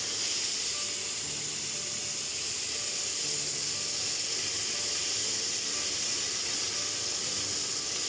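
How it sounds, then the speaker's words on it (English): Minced meat browning over high heat in a pan for spaghetti bolognese gives a steady, even sizzle and hiss that runs without a break, with no voices over it. "While your mince is browning"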